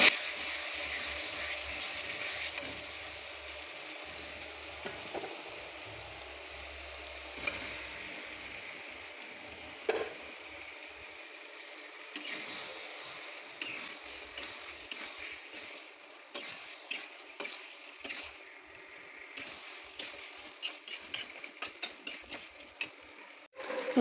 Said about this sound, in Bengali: আমার মাংস মশলা কষানো হয়ে গেছে, এবার মাংস দিয়ে দেবো।